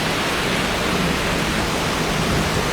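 Steady, heavy rain falls outside a monk's hut during an evening Dhamma talk, a dense, unbroken wash of noise with no pauses and no voices.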